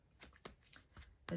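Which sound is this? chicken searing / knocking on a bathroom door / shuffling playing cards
shuffling playing cards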